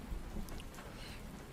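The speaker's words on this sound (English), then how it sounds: "I have to listen to the rain for a second." Rain falling outside, a steady faint hiss with a low rumbling wash beneath it that carries on unbroken with no talk.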